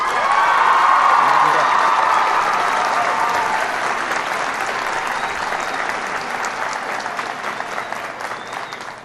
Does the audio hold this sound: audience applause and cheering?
yes